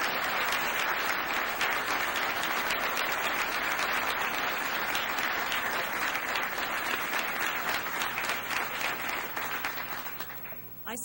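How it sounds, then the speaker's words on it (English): A large audience gives a warm round of applause at a lecture as a speaker is welcomed on stage, with dense, sustained clapping that stays loud and even before tapering off near the end. "Let us bring her on with a warm round of applause."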